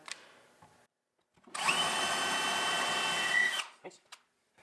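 Power drill with a brad point bit boring into a table leg, one steady high whine of about two seconds, close and loud, with quiet handling sounds before and after.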